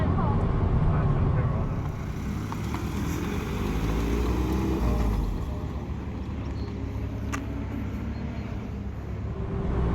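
Suzuki Swift Sport driving at Cadwell Park while backing off for a cool-down lap: a steady in-car drone of engine and road rumble that eases slightly midway, with no clear gear changes.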